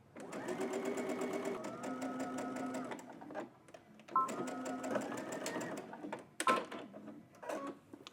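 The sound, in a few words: serger finishing seam allowance on sleeve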